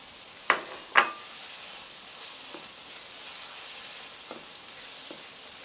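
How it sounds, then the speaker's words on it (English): Courgette tumbles into a frying pan with a couple of sharp clatters, then a steady, gentle sizzle carries on, broken by a few soft stirring clinks. "the next step is we add the courgette"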